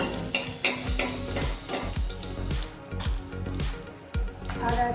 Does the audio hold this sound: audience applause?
no